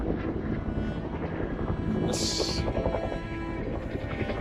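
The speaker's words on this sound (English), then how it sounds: "there's about 4 helicopters in the sky. Water bombing." Steady, continuous rotor and engine drone of about four water-bombing helicopters fighting a wildfire, a broad rumbling roar that stays constant throughout with no voices.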